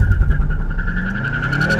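2013 BMW M5 with a manual gearbox launches hard, the clutch dumped at about 2,000 rpm and full throttle, giving a loud rising engine wail with wheel spin over a short burst, no talking.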